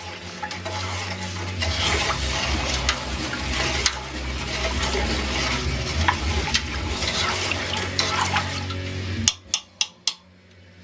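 Steady swirling and sloshing of water stirred in a pot of pork hock brine, continuous and close for about nine seconds, then stopping, followed by a few sharp knocks of the spoon against the pot.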